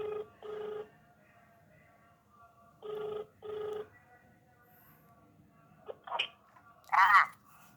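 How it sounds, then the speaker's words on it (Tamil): An outgoing phone call rings back in two double bursts, a clear electronic ring tone repeating with pauses, followed by brief faint voice sounds near the end. "ஃபோன் போகுது கேட்போம்."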